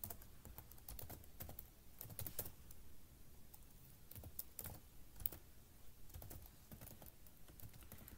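JavaScript code being typed on a computer keyboard: quiet, close key clicks come in uneven bursts with short pauses between them, with no speech.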